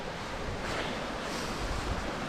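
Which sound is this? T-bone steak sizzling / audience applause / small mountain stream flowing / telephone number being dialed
small mountain stream flowing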